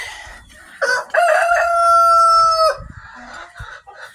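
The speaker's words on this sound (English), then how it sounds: "He's a big red rooster." A big red rooster crows once, loud and close, a long drawn-out call after a couple of short clucks, followed by quiet farmyard rustling.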